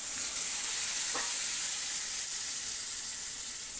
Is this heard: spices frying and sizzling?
yes